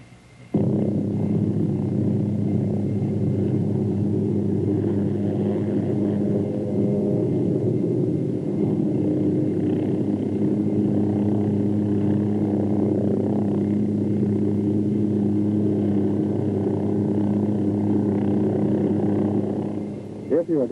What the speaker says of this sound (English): Next, you pivot the helicopter around the tail rotor.